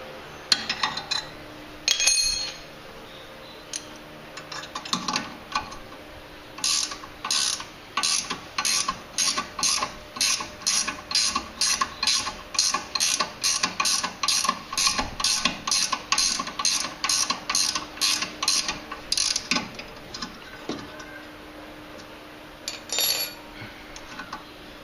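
A wrench ratchets in quick, evenly spaced clicking bursts on a VW Polo front shock absorber mount during removal, with metallic clinks at the start and end.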